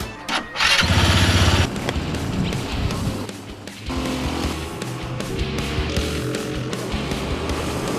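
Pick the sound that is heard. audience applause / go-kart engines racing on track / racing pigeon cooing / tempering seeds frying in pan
go-kart engines racing on track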